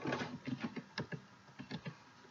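Typing on a computer keyboard: a close, quiet run of irregular key clicks in short bursts with brief pauses between them, no voices.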